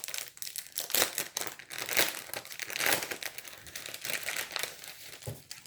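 A package wrapped in pretty paper is being opened, with close, continuous crinkling and crumpling of paper in irregular bursts and occasional tearing, no voices.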